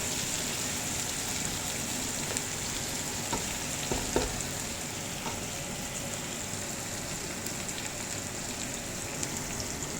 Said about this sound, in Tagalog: Ito guys, nilagay na natin yung bawang at sibuyas.